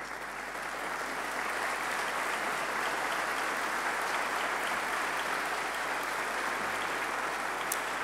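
Sustained, dense applause from an audience at a parliamentary prayer breakfast in Bucharest's Palace of Parliament, steady and loud for the whole stretch with no talk over it.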